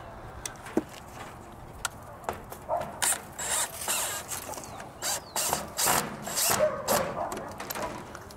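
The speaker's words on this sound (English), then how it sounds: "just tightened up the screws here" A power drill drives screws into wood while a quail watering system is set up. Short clicks are followed by intermittent, close whirring bursts of varying length, with quiet gaps between.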